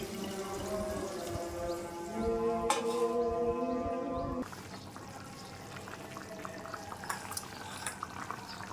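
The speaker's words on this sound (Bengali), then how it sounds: "এখন পরিমাণ মতো জল দিয়ে দিলাম।" Water pours steadily into a pan of hilsa fish and tomato curry with a rising filling tone, then stops, leaving a soft simmering hiss with small bubbling pops.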